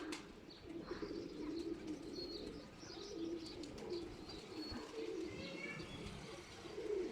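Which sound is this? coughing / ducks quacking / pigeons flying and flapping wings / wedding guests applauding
pigeons flying and flapping wings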